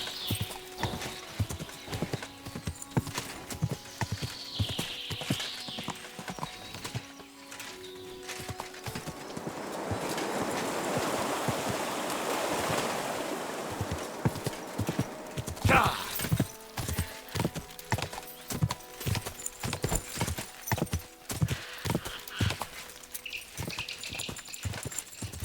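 Horse hooves clopping with a whinny in Kingdom Come: Deliverance 2, steady close hoofbeats broken by a noisy snorting whinny midway, then resuming, with brief speech.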